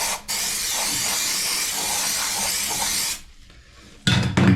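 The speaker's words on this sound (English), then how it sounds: "I'm just going to spray a bit of lubricant on it first" Aerosol lubricant sprayed from a can during a plumbing job on cement-encrusted pipework: a loud steady hiss lasting about three seconds, then a quiet gap and a short louder burst at the end.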